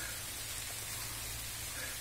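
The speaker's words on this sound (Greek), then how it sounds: "έπιασε καταρακτώδη βροχή, ήρθανε τώρα από κάτω από μια βελανιδιά" Heavy, steady downpour of rain in an outdoor setting near an oak tree, a dense continuous hiss of falling water with a low rumble beneath, no voices heard.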